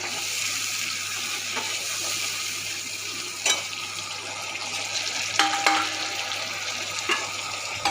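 Cumin, ginger and chili paste frying in oil in a pan for a bhola fish curry: a steady, close hiss of sizzling with a few sharp spatula scrapes and clinks against the pan.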